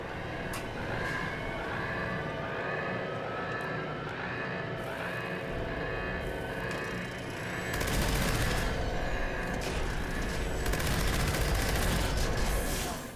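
A Vampire Gauss Minigun in the video game Fallout 76 fires in a continuous loud stream of rapid shots, with an electronic whine running through it and the fire growing heavier and denser partway through.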